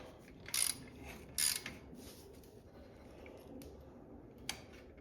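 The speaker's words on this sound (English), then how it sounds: "jam this clutch so I can take this stinking bolt off, but it is extremely tight on there." A wrench clicks and ratchets against a tight clutch bolt on a Baja Blitz motorbike with a 212cc engine swap, two sharp metallic bursts early and a lone click later, close and quiet overall.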